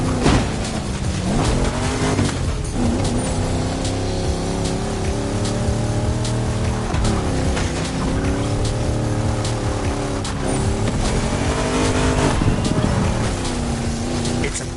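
A rally car in a racing video game races along dirt roads, engine roaring steadily with rising and falling revs, gear shifts and occasional tire skids, loud and continuous throughout.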